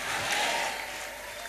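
A church congregation breaks into sustained, dense applause during a sermon, a steady wash of many hands clapping that fades slightly toward the end.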